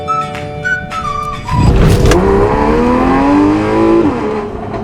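A car fitted with an aftermarket, non-stock exhaust revs hard and loud close by, with a sharp rising blip and then a sustained, roaring engine note that swells and falls.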